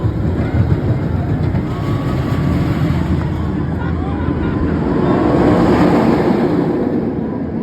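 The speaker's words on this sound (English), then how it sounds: "And there's a little mine train." A mine train roller coaster at Great Adventure theme park rumbles along its track, a steady broad rolling roar that swells slightly toward the end, with wind buffeting the microphone.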